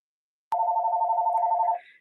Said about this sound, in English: Ignore the phone call trying to muffle it.